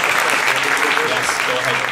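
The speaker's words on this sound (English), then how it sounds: "One more round of applause." A round of loud audience applause for startup pitch teams at a Startup Weekend final pitch event, a steady clapping wash with voices faintly mixed in beneath it.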